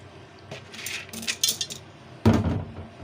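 Chickpeas tumbling into a metal pressure cooker, scattered light clinks and rattles followed by a louder pouring clatter near the end, close and without talk.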